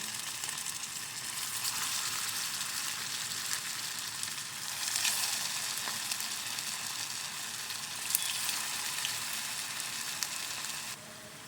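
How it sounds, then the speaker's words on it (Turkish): Steady, crackling sizzle of cauliflower meatballs frying in hot oil, a continuous dense hiss with small pops, close and unbroken, with no talking. "yağım yeterince ısındı. Şimdi köftelerimi içine koyuyorum."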